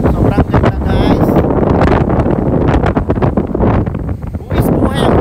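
Strong wind at Lemphrontep Cave buffets the microphone in loud, gusty roaring bursts while a person talks excitedly over it.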